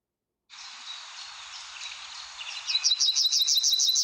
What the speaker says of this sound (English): Pick another bird. All right, the yellow whammer.